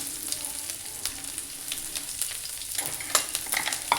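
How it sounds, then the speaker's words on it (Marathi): Ginger garlic paste and whole spices sautéing in a pan, giving a constant bright sizzle with scattered spatula scrapes and taps, loudest toward the end, with no speech. "तर परतवून घ्यायचं छान."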